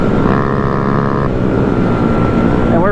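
Gas Honda Grom mini bike engines drone loudly and close with a steady buzzing hum; one tone holds briefly, then a revving whine rises near the end, with wind rumble on the microphone.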